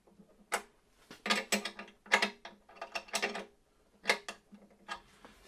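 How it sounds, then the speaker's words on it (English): A wrench clicks and ratchets in short bursts while tightening nuts on Taylor guitar tuners, with close, crisp metallic ticks coming in uneven clusters and no talking. "Tightening the nuts here on the tuners. These are beautiful tuners from Taylor."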